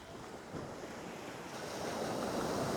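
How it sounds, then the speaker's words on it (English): Ocean waves wash steadily at Thomas Beach in Bali, a continuous broadband rush of surf with some wind noise on the microphone, swelling slightly louder toward the end with no voices. "Beautiful clean ocean."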